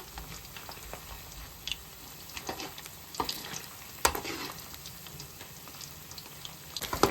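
A kaju chilli paneer mixture of cashews and paneer is stirred in a pan on a stove over medium flame, with a steady soft sizzle, intermittent scraping and clinks of the spoon against the pan, and no voices.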